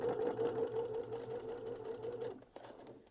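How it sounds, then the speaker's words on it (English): A sewing machine runs steadily, stitching fabric to ease in a curved seam, its rapid even whir holding for over two seconds before stopping, followed by a faint click. "So now we will sew this in place."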